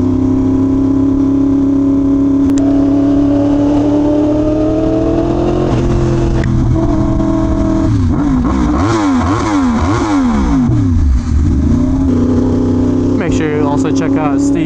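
A Yamaha R1M sport motorcycle ridden in the rain gives a loud, continuous engine drone close by, its pitch swinging up and down through repeated revs and gear changes midway before settling back to a steady cruise.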